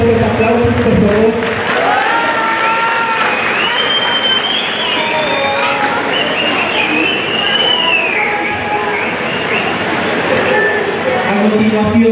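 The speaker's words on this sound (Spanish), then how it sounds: "que se escuchen esos fuertes aplausos, por favor." Guests at a quinceañera celebration break into loud, sustained applause that runs alongside music and mixed voices in a large, reverberant hall.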